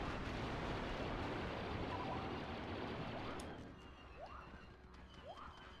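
Heavy, continuous battlefield roar of turret fire and blasts in Star Wars Battlefront II during a fight over a command post, loud and dense at first, then easing off with scattered sharper effects toward the end.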